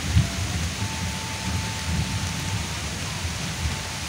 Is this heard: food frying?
no